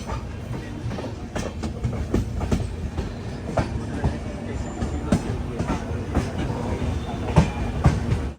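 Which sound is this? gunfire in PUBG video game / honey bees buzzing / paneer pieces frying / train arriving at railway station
train arriving at railway station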